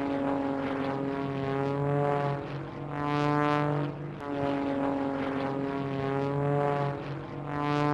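A propeller airplane flies steadily overhead, its droning engine loud and continuous with a layered harmonic hum that swells and eases slightly as it passes.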